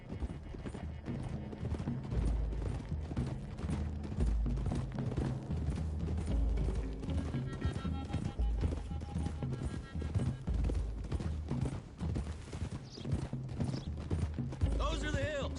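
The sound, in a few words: horses galloping in Red Dead Redemption 2 video game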